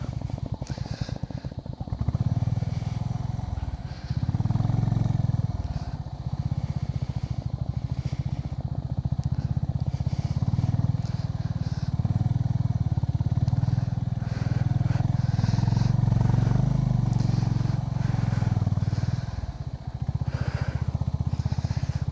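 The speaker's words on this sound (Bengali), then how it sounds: "চাকা পুরো স্কিড করছে" A motorcycle engine drones steadily and loudly up close, revving and labouring with wheels skidding over a rough mountain road in Arunachal, with rattling and clatter throughout.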